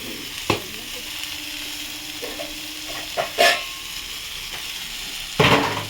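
Ground cumin, coriander and turmeric powder fry in a pan over a low gas flame for a soybean dish. A steady close sizzle carries a few sharp bursts and stirring clicks, with a louder crackle near the end.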